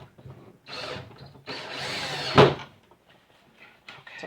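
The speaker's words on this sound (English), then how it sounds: "putting the drill in my left hand" A power drill runs in short bursts while recycled old lumber is worked on for a soap curing rack, with brief whirring pulses and a sharp knock near the middle, close and fairly quiet.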